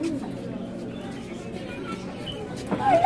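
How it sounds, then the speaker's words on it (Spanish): Pigeons cooing in a Ciudad Juárez street, soft low murmuring coos close by amid ambient city noise, with a brief higher chirp near the end. "Las palomitas."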